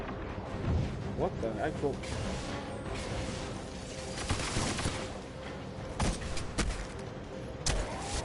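Gunfire crackles in Destiny's Rise of Iron as enemies shoot at the player, a busy run of bursts and impacts under an excited voice.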